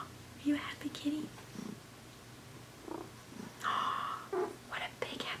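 A cat purrs softly and close, a low steady rumble beneath quiet, whispered talk.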